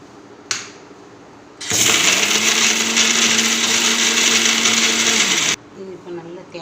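Mixer grinder roaring loudly and evenly for about four seconds as it grinds coconut, coriander leaves and curry leaves for a home lunch, starting and stopping sharply; quieter kitchen sounds come before and after.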